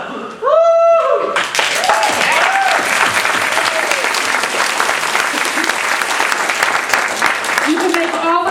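After a short spoken cheer, a crowd at a Toastmasters district humorous speech contest bursts into loud, sustained clapping and cheering that continues for several seconds, with voices and whoops mixed in.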